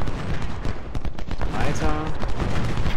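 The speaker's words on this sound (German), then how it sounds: "Genau, ihr schießt alle da drauf." Infantry muskets in the American Civil War video game Ultimate General: Civil War fire ragged volleys, many overlapping cracks in a dense crackle over a steady battle din, with someone talking over part of it.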